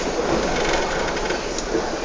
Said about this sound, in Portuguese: André, conta os trens parados.